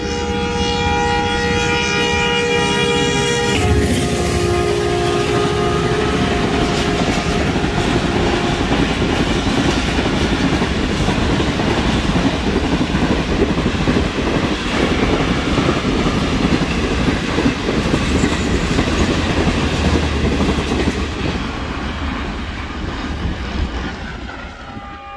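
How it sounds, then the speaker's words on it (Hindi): Karachi Express train rushing through Dhabeji railway station at about 100 km/h, a loud, sustained roar with clattering wheels on rails, opening with a sustained horn and fading slightly as it passes. "कराची एक्सप्रेस इस वक्त आ रही है और बहुत ही रफ्तार में आ रही है"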